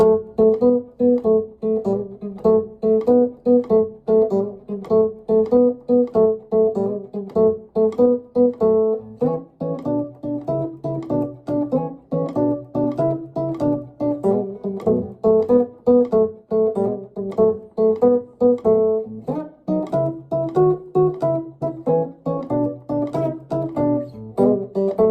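Chicago blues pattern played on electric guitar, a steady rhythmic shuffle of repeated bass-string figures and chord stabs, continuous and close with no talking.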